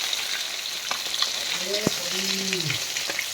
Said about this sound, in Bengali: তো আর একটা পাশ ভাজার জন্য একটু উল্টে দিতে হচ্ছে